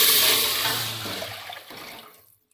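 Water poured into hot ghee in a cooking pot, a loud hissing sizzle and gush that fades over a couple of seconds into quieter bubbling.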